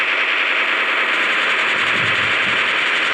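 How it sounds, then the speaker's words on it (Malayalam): Rapid automatic gunfire from the mobile battle-royale game Free Fire in ranked Clash Squad play, a dense continuous burst of shots lasting the whole moment, loud and alone with no talking over it. "വെടി വെച്ചിട്ടേക്കാം."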